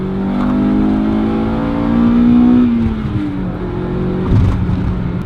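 A 1999 Acura Integra GSR engine revs hard, its pitch climbing steadily as it crosses into VTEC, then drops off and settles back to a lower idle-like drone, loud and close.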